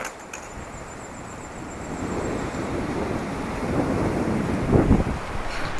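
Fierce Atlantic storm wind in the Spanish mountains roars without pause like nearby surf, buffeting the microphone and swelling gradually louder.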